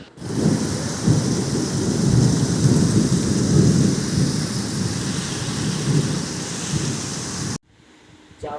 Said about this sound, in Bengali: তো এখন যাই বাইরে বৃষ্টি হচ্ছে